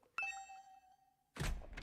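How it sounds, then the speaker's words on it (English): A doorbell rings in a video game: a single clear bright chime with a long fading ring, followed by a dull thump and rustling clatter. "the sound of my doorbell ringing over and over"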